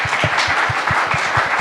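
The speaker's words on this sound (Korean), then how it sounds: "박수 한번 부탁드립니다" An audience applauds at a recruitment information session with a question-and-answer segment, a dense, even patter of many hands clapping at moderate loudness, steady throughout the short moment.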